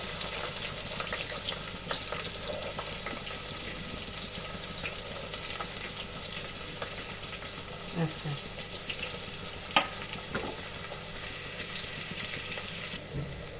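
Garlic and onion sizzle and fry steadily in hot oil for a prawn biryani, a soft continuous crackle with occasional stirring clinks, close and moderately quiet.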